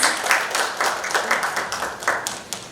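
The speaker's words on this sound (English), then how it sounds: "Round of applause, please." A short burst of audience clapping at a Construction Federation of India event, with distinct rhythmic claps rising and falling in a small, near crowd.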